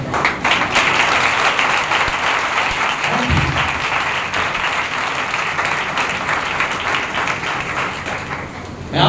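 A church congregation claps steadily through a Sunday service, a dense, loud wash of hand claps that holds for the whole stretch, with a brief low thump partway through and a few faint voices underneath.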